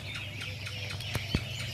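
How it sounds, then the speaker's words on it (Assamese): Local desi ducklings at an Assam duck farm, hundreds of chicks together, make a dense, continuous chorus of thin peeping and chirping, with a couple of sharper, louder calls standing out near the end. "এইবিলাক হ'ল দেশী লোকেল হাঁহৰ চানা"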